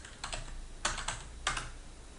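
Several quick keystrokes on a computer keyboard, typing attendee names into an Outlook meeting invite, a few light clustered taps close by in a quiet room.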